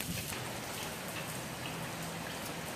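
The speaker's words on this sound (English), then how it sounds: "And it's still raining out here." Steady rain falls outdoors beside a Weber Smokey Mountain smoker, a dense, even hiss of drops pattering on surfaces throughout with no voices.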